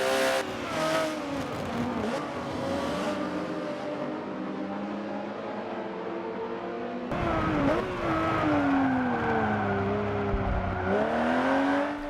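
Engine note of a Porsche-like race car in the Forza racing game, entering a corner too fast and locking up, a loud continuous drone that dips and rises in pitch as it slows, briefly quiets, then revs hard again.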